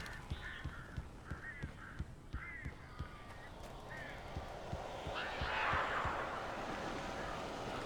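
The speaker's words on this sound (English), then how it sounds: "These birds are weird." Crows in the video game Alan Wake give repeated harsh caws in a quick rhythmic series, with steady thudding footsteps beneath and a louder rushing burst near the end.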